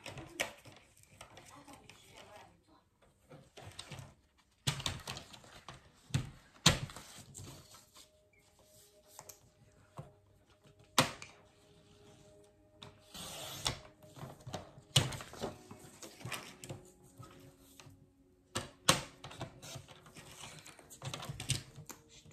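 Printed paper Halloween lettering is cut with repeated close snips and crisp paper rustles in an irregular rhythm, with occasional speech in between.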